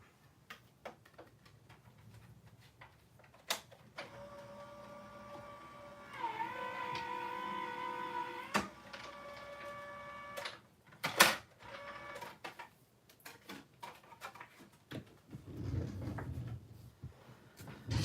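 A hand-cranked paper crafting die-cutting machine feeds a card through an embossing folder for a spring bunny card, giving a steady whirring, clicking crank with sharp ticks and squeaks, close and moderately loud with no talking.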